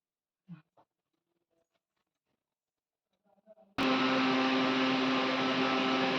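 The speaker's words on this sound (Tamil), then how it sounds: "பெருசு பெருசா கட் பண்ணி மிக்ஸியில போட்டு அரைக்க போறேன்." A few soft clicks and taps, then a mixer grinder starts abruptly, grinding large-cut tomatoes, and whirs loudly and steadily with a high motor whine.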